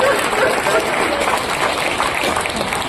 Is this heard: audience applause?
yes